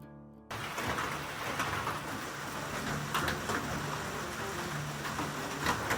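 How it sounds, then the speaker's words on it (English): Light drizzle falls on the Appalachian Trail as a soft, steady, even hiss of rain that starts abruptly and stays faint throughout, with no talking. "Still drizzling."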